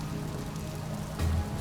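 Steady rain falls in misty, dull British weather, a constant soft hiss of drops on surfaces with no clear breaks and no one speaking.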